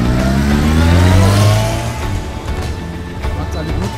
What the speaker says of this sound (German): Tja, die Motoren gehen wieder an.